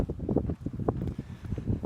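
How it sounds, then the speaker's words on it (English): Gusty wind in Ibiza buffets the microphone in low, uneven rumbling bursts, loud and close throughout. "it's really windy here today in Ibiza"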